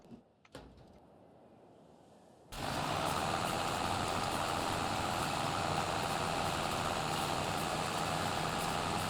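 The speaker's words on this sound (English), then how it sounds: "I'll now jump to the John Deere tractor" After a quiet stretch with a couple of sharp clicks, a John Deere tractor engine in a farming game starts up and keeps running, loud and steady, as a dense, droning rumble.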